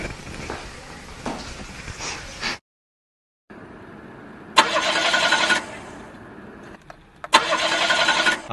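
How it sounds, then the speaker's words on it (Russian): A car's starter cranks in several bursts with the engine failing to catch, each grinding attempt loud and close, separated by pauses and a brief silence. "Равиль, я не могу завести машину"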